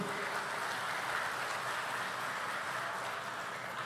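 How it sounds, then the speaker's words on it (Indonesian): An expo audience claps together for an honored guest, an even, continuous wash of applause at moderate distance with no voices over it. "Tepuk tangan untuk Bang Bahlil."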